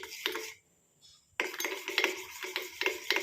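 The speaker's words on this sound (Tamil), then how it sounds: "லைட்டாக அந்த மாதிரி நம்ம கிண்டி விட்டுக்கிட்டே இருக்கலாம்" Clattering of a utensil scraping and knocking inside a metal pot, repeated in steady stirring strokes with a short pause near the start.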